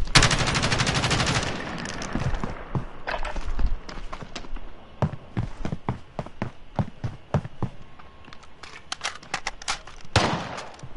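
Rapid gunfire in the Call of Duty video game: a dense automatic burst up front, then a long run of irregular sharp shots, some close and some distant, ending in another loud burst, with faint voices now and then.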